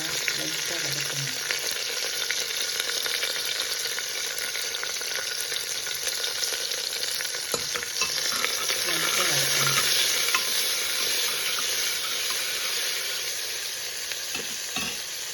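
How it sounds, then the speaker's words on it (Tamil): Chopped onions sautéing lightly in a pan with a little water for brinjal rice, giving a steady close sizzle and frying hiss with occasional stirring scrapes throughout, no voices. "வெங்காயம் நீர் கொஞ்சம் அரைஞ்சது போட்டு நல்லா லைட்டாக வதக்கணும்"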